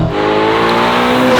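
A 704 hp Novitec Ferrari Roma supercar with an aftermarket exhaust accelerates in a brief, loud, close burst, the engine note rising steadily in pitch.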